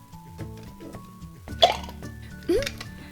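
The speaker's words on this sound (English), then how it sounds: "I'm still not used to all this farting." A Doggie Doo toy dog game lets out two short, punchy farting noises a second apart, with people talking lightly around them.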